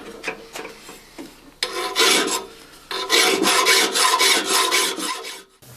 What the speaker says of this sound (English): I just clamp it in the vise and file it to the shape that I need.